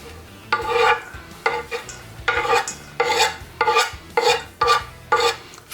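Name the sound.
mixing chopped onions into potatoes for potato salad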